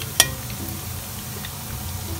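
Food fries in a Teflon pan, a steady low sizzle, while a strainer stirs it gently, giving one sharp metallic tick near the start and soft scraping afterward.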